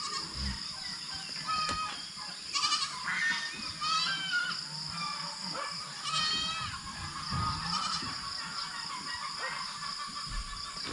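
A goat bleats repeatedly on a farm, with several wavering, nasal cries in a row against a steady high background hum and some rustling, fairly close and loud.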